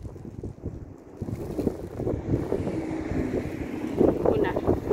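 Wind blowing hard into the face on a boat out on the water, a steady rough roar buffeting the microphone with swelling gusts, while someone talks over it.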